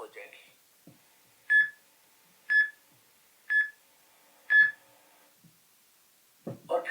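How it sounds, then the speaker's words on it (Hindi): An electronic alarm sounds four clear, evenly spaced beeps about a second apart, with brief speech just before and after. "अलार्म बज गई।"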